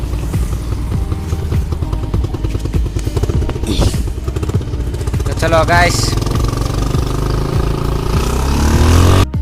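A motorcycle engine rumbles loud and close, revving and idling under steady talk, with pitch swells as the throttle rises toward the end.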